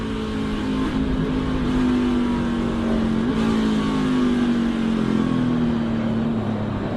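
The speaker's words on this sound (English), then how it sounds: "You heard him downshift trying to get the car slowed down." A NASCAR race car engine at Indianapolis or Toronto drones loudly and steadily, its pitch sliding down with a brief blip midway, as if downshifting while the driver fights to slow the car; no voices.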